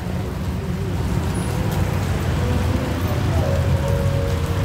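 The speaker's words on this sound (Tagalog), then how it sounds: "3 minutes na siguro ang ulan" Steady rain falls on a city street and sidewalk in Iloilo City, a dense continuous hiss of drops hitting pavement, with faint traffic rumbling underneath throughout.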